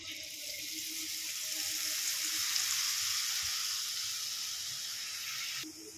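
Green boondi batter frying in hot oil, a steady, bright sizzling hiss that swells slightly in the middle, then fades and cuts off near the end.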